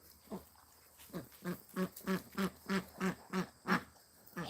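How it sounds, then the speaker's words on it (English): Duck hen on a farm giving a steady series of about ten loud, evenly spaced quacks, close by and heard alone without talk. "The back one is a hen."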